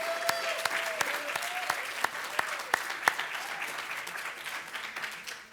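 An audience claps through a college tour closing ceremony, with sharp, irregular claps from a fairly small crowd that stay steady, then fade slightly toward the end.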